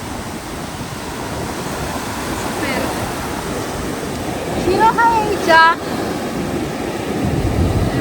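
Sea waves breaking on a beach: a steady, loud broadband roar of surf swelling and falling, while people talk briefly and call out close by.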